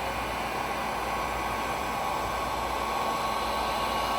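A heat gun warms vinyl wallpaper around the corners of a doorway return, giving a loud, steady blowing hiss that runs without a break and has no talk over it.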